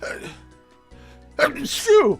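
One sharp sneeze bursts out close to the mic, with quiet talk just before it and more speech right after.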